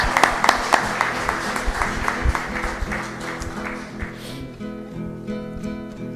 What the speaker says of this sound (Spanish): Fuerte aplauso a la comunidad entonces